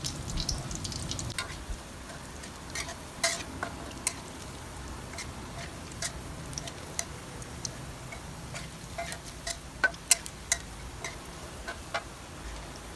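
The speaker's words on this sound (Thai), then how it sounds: "ส่วนปริมาณลาบที่เราทำนะคะ เราจะทอดทั้งหมด 2 กระทะค่ะ" Soft crackling and scattered sharp pops from minced pork frying in hot oil in a pan, steady and close with no voices.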